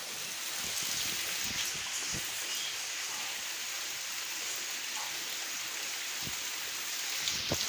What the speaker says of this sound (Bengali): এখন একটুখানি কমেছে বৃষ্টিটা, অল্প একটুখানি।